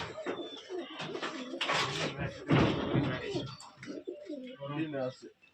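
Pigeons of matching colours coo in a loft, a steady run of soft, throaty calls close by while people talk over them.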